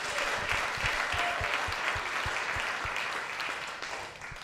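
Audience applause for presenters at a town hall discussion event, a sustained crowd clapping that stays fairly even and moderately loud, fading a little toward the end.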